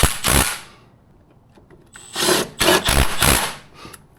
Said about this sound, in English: This is a really powerful little Milwaukee impact, so I have it set on setting number 2, not to over torque these small fasteners.